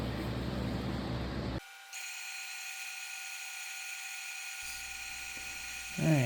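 Woodturning gouges being sharpened on a bench grinder, a high steady whine that starts after a short noisy lead-in and carries on alone at a moderate distance, fairly quiet overall.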